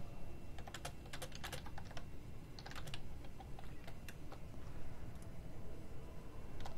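Rapid clicking of keys on a computer keyboard, irregular bursts of close, fairly quiet taps over a low background hum, with no voices.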